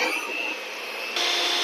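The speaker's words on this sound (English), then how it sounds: "I will just mix it first and then start my mixer." Electric mixer beating peanut butter cookie dough, a steady whirring motor hum close by that shifts pitch slightly partway through.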